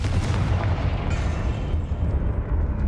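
Confringo spell blast in Hogwarts Legacy, a loud, continuous fiery explosion that rumbles heavily in the low end and fades slightly toward its tail, with no voices over it.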